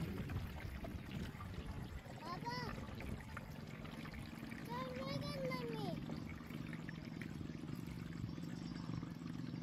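Water pours steadily into the 10-litre spray tank of an Agrown-10X agricultural drone, a continuous trickling splash heard close while someone talks over it.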